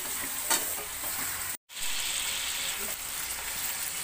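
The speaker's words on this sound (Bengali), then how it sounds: "দিয়ে তারপর মাংসটাকে ভালো করে নাড়তে পারবে" Chicken sizzles loudly as it fries with fried spices, with steady crackle and stirring throughout, broken by one very short gap of silence.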